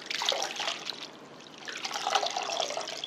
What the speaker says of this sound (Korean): 그리고 얼른 찬물에 이렇게 건져주세요.